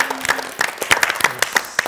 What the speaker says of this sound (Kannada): ಉತ್ತರ ಕರೆಕ್ಟ್ ಆಗಿದೆ ಅಂತ ಚಪ್ಪಾಳೆ ಹೊಡೆಯುವ ಮೂಲಕ ಇವ್ರು ಹೇಳ್ತಾ ಇದ್ದಾರೆ